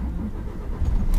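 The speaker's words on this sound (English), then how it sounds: "let's fire the old yoke up here" A Scania truck engine starting, a short cranking burst that catches into a low rumble near the end, close and fairly loud.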